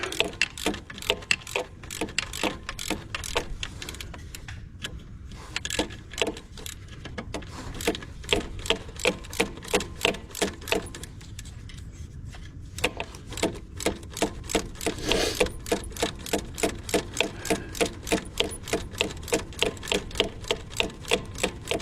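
A ratchet wrench clicks steadily as it turns a long bolt on the alternator of a Dodge Dakota truck, a fast, even run of close, crisp ticks broken by two short pauses while the handle is reset.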